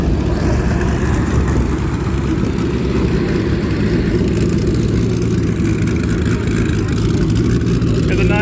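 Porsche 911 race cars roar past at Daytona during the HSR Classic 24 Hours, a dense, continuous engine din filling the scene with crowd and voices mixed underneath.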